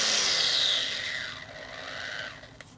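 A unibit step drill bit cutting through sheet metal gives a harsh, steady grinding whine that is loud at first, then eases and thins out over a few seconds, ending with a small click.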